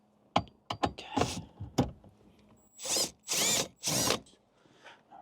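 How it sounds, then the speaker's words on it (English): A socket wrench with an extension removes 10mm bolts on a 2023 Toyota Corolla Cross. Several sharp metallic clicks and taps come first, then three separate, fairly loud bursts of rapid ratcheting, close by, with short pauses between them. "next we are going to remove the 4 10mm bolts"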